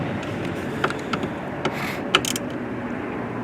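Screws driven into a metal J-clip holding a base plate on a 2024-2026 Cadillac XT6, with several short creaking, ratcheting turns and small clicks, close and fairly quiet against a low background hum.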